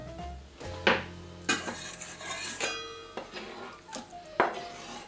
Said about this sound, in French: Il ne reste plus qu'à hacher nos poivrons en tout petits morceaux